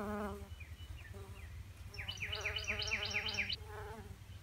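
Bee buzzing near plants in a garden with a fig tree and dill, a thin, high, wavering drone rising and falling over low background rumble, fairly faint and close, with no talk.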